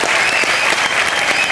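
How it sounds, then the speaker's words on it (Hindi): Steady, loud applause from a studio audience on a Hindi comedy show, continuous clapping throughout with no pauses. "उसके लिए जोरदार तालियां।"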